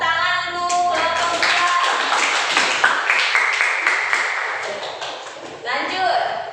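A student group in a science class is clapped for by classmates, with scattered hand claps and light taps rising and falling through the room while voices chatter underneath.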